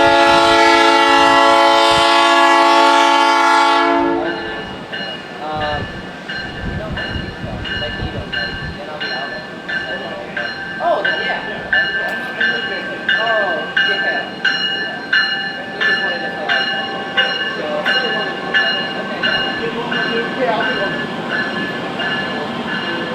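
A South Shore Line train of bi-level electric multiple units sounds a loud, sustained horn blast, then rolls past close by with a steady rumble and rhythmic clatter of wheels over rail joints.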